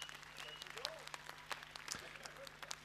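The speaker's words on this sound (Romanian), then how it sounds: "dați-i un aplaud, vă rog frumos!" Festival crowd at an outdoor blues show in Ghelari applauds the band's drummer, a steady wash of clapping with sharper individual claps standing out, moderately distant.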